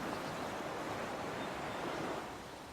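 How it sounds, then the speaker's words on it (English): Steady broadband wash of water waves from a video game, a continuous loud surf-like roar with no talking, easing slightly toward the end. "the water effect is actually relatively nice"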